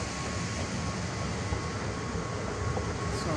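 A Dubai metro train rolls past, a dense, continuous roar of wheels and motor noise that stays loud and even throughout, with no speech over it.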